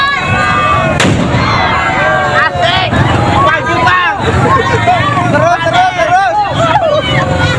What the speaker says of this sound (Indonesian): suara ledakan petasan